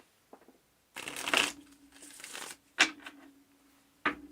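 Tarot cards being shuffled for a reading, several quick riffling bursts separated by short pauses, close and fairly quiet, with no talk.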